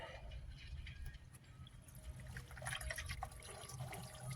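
Coolant drains from a Ford Focus radiator, a faint, continuous splashing and trickling of liquid pouring into a container, with no talk.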